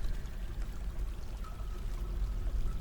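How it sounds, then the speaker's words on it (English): Gentle brook water flows steadily in the fantasy game Dwarf Fortress, a soft continuous stream that sits moderately close and runs alone without talk. "Oh, this is just a brook."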